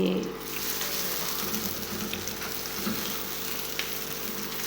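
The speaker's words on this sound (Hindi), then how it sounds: "ये जो कबाब है हम थोड़े से इधर फ्राई करेंगे ऑयल ऐड करके" Kebabs frying in oil in a pan, a steady dense hiss and crackle that holds throughout, with a brief talking voice at the start over the sizzle.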